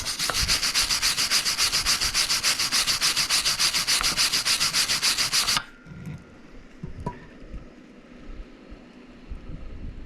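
An angle grinder dresses a gasless MIG weld on a steel part with a loud, steady, rasping buzz lasting about five seconds. It then cuts off and leaves quieter handling noises.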